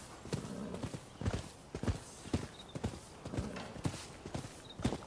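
Hooves of a horse in the video game Rise of the Ronin clip-clop in a steady trotting rhythm, moderately close, with a brief whinny-like tone and no talk.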